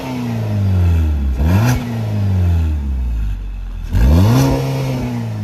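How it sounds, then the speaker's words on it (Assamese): A Maruti Suzuki Swift Dzire petrol engine revs up twice with the accelerator, each rise swelling then falling back to a smooth idle, loud and close with no talk. "মই এক্সেলেটাৰটো দি দেখাই দিছোঁ"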